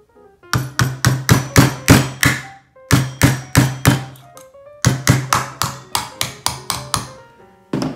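Close, sharp hammer taps puncturing a metal mason jar lid in quick bursts of several strikes each, with short pauses between groups.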